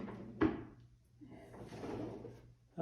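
A bathroom vanity drawer fitted with a docking drawer outlet slides shut with a sharp thunk. Softer sliding and rustling follow at close range in a quiet room.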